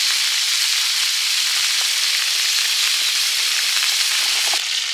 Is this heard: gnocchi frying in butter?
yes